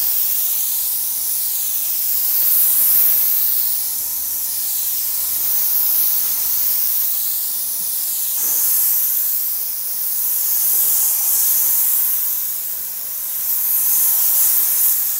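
Spray gun applying PU primer to the side of a car body, a steady loud hiss of atomized paint that swells and eases in long passes, with no talking.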